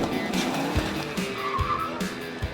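A car skidding during a movie stunt before it strikes a camera: tire squeal and engine noise up close, broken by several sharp low thumps and knocks.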